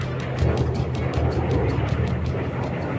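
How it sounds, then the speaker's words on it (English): One of the largest planes ever flown, a giant aircraft droning overhead with a steady low engine rumble and faint rhythmic fluttering pulses, moderately loud and continuous. "It's one of the largest planes ever to fly this way."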